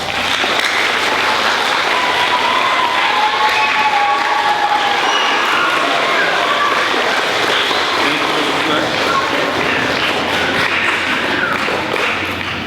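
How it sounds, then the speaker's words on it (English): Steady, loud audience applause at a 5th grade recognition day as teachers are introduced, a dense crowd clapping without a break under some murmur and cheering. "Round of applause"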